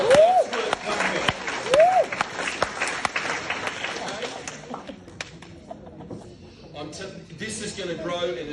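Audience clapping at a gathering, scattered sharp hand claps under ongoing talk and crowd noise, thinning out after a few seconds as voices carry on.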